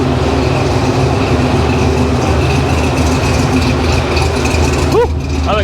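Supercharged car engine idling rich and unsteady, a loud continuous low rumble with a droning tone that holds throughout, and voices talking briefly near the end.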